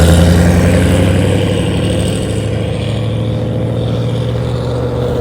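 A truck engine idles steadily nearby, a continuous low rumble with a faint tonal hum that holds even throughout, with no talk over it.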